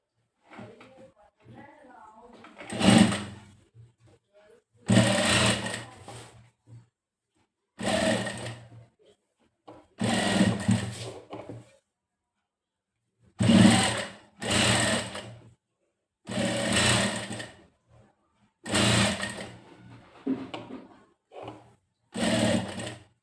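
Sewing machine stitching a shirt in repeated bursts of loud, close mechanical whirring, each lasting a second or two, separated by pauses with a voice talking between runs.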